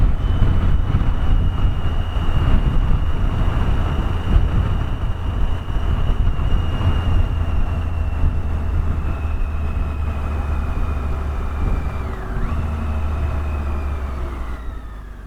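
A Triumph Tiger 800 XCX motorcycle is ridden along a byway, its engine a steady close drone under heavy wind rush, with a brief pitch shift near the end and no talk.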